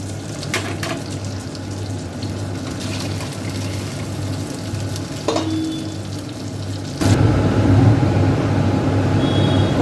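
Fish heads fry in hot oil in a wok, a steady close sizzle with clinks and scrapes on top, growing louder and denser in the last few seconds.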